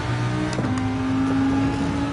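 A race car engine in the racing game Gran Turismo 7 drops a gear, so the engine note steps and then holds a steady pitch at close, fairly loud level, with no talk over it.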